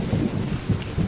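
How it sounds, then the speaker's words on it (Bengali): Rain begins falling on a stormy night over a river during a fishing trip, with a low rumble of thunder under the steady patter, in a brief, dense burst. "হঠাৎ ছোট ছোট ফুটোয় বৃষ্টি পড়তে লাগলো, যেন কোনো সময় জোরে সোরে বৃষ্টি বা ঝড় শুরু হতে পারে।"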